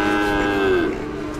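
Cattle low and moo at a livestock market selling cattle of all sizes, from calves to big bulls and cows; one sustained, falling moo rises over a busy, noisy background, fairly close.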